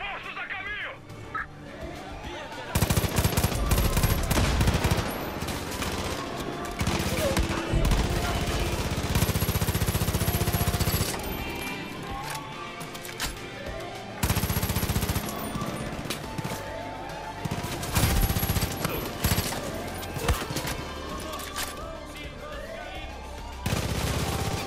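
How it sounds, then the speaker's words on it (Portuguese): Bursts of gunfire in the video game Far Cry 5, repeated volleys and rapid shots in loud clusters with quieter gaps between, while someone speaks over the action. "quem tá atirando em mim"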